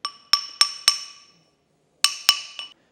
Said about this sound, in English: using the ball peen hammer, you can start to knock and stretch out your ring